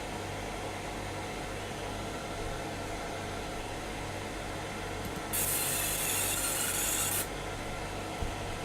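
A fiber laser marker run from EzCad 2 software etches a part at over 1,000 mm per second, giving a steady bright hiss for about two seconds over a constant background hum, with no talking.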